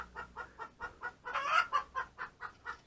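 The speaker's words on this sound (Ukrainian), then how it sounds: "Курка яйця несе." An egg-laying hen clucks in a quick, even rhythm, about five clucks a second, with a louder squawking burst in the middle.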